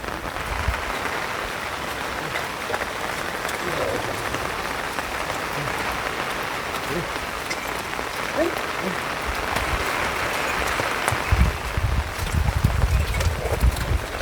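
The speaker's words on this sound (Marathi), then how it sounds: "पावसाळा ढगाळ वातावरण, जोरदार पाऊस पडतोय." Heavy monsoon rain pours steadily over paddy fields in the Konkan countryside under an overcast sky, a dense continuous hiss throughout with low rumbling patches near the end.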